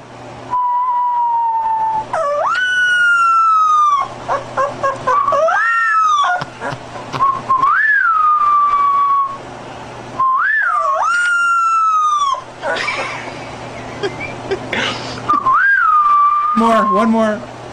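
A puppy trying to howl gives out high, whistle-like cries, sliding and wavering tones in repeated phrases with short gaps, fairly loud and close, alongside yips and whimpers.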